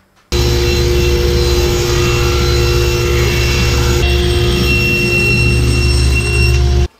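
A power saw cutting a 3/4-inch-thick pine board for a garden trolley, a loud, steady, high-pitched whine with harsh cutting noise that holds for about six and a half seconds, with no talking.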